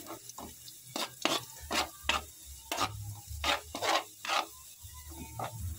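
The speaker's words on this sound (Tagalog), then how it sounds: "At igigisa natin ito hanggang mag-golden brown ang kulay ng ating bawang" Garlic sautés in melted margarine in a pan, a faint sizzle beneath repeated scraping strokes of a spatula, each stroke a short rasp in an uneven rhythm, close and without speech.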